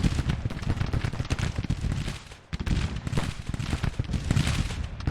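Artillery and musket fire across a Civil War battlefield in the strategy game Grand Tactician: The Civil War, dense rapid booms and crackling volleys with a brief lull midway, moderately distant.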